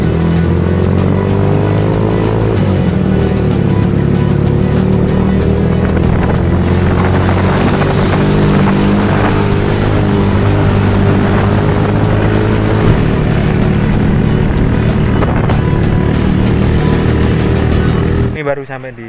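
Loud, continuous engine drone from a motorcycle taxi (ojek) climbing toward a mountain base camp, heard close from the pillion with wind rush, a pitch that slowly rises and falls, and a sudden cutoff at the end.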